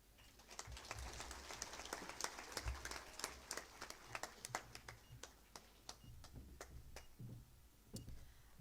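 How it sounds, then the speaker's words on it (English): Steady applause from a graduation ceremony audience at the International University of Management, sharp scattered claps in a fairly quiet, distant-sounding hall, fading slightly toward the end with no talking. "Another warm round of applause for our guest speaker"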